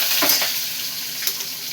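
Dried red chillies crackle and sizzle in hot oil for a tempering, a steady frying hiss close by with a couple of brief stirring scrapes, no voices.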